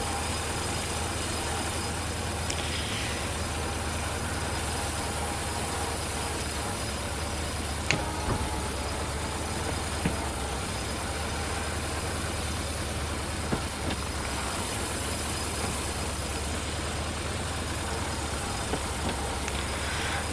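Tractor engine running steadily while driving on a Polish farm, a continuous loud rumble with rattling and clanking throughout, no speech.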